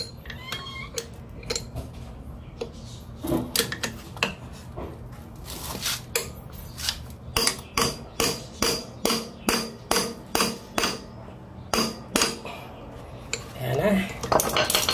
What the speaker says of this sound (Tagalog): manual impact wrench ulit. So clockwise naman tayo guys kasi naghihigpit na tayo.